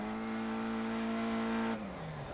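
Rally car engine in Dirt Rally at the start of a race, a steady droning tone that holds and then drops sharply in pitch as the revs fall, loud and alone.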